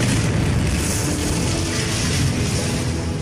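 A tank gun fires at a German Tiger tank in World War II combat, a heavy booming blast that rolls into a sustained, dense rumble of noise with no voices.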